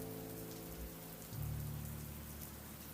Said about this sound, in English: Allow the sound of the raindrops to calm you